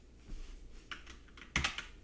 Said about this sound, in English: I can press Alt, Delete, Alt, Control, and Delete.